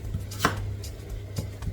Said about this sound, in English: we're back to cutting our veggies. We have potato there